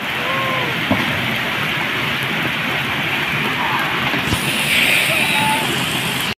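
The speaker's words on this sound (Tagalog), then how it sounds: "masyadong malakas yung ulan at bumabaha na yung tubig" Heavy rain pours and floodwater rushes through a canyon in Samar, Philippines, a loud, steady broadband roar with splashing that swells slightly near the end, with faint voices underneath.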